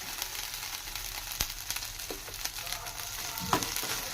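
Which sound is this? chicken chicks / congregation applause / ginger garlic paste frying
ginger garlic paste frying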